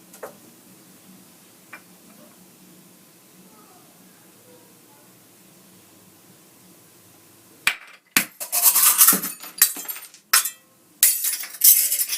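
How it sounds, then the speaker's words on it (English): Foley recreation of breaking glass. Several seconds of near silence with faint ticking give way to a series of sharp, bright crashing and shattering bursts, loud and close, in quick succession over the last four seconds. "I'm going to recreate all the glass, like the breaking glass sounds"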